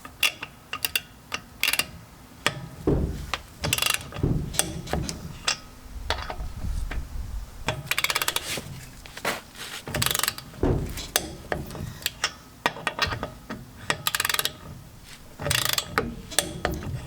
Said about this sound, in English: I'm just going to go ahead and torque each and every one of those down to 80 foot-pounds